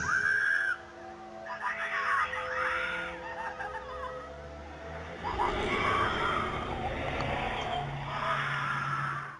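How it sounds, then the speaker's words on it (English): A woman screams in a doorbell camera recording of a kidnapping outside, as a white hatchback drives off with her inside. Several shrill, wavering cries rise over a muffled outdoor rumble, sounding thin and somewhat distant. "A white hatchback then drives off with a screaming woman inside."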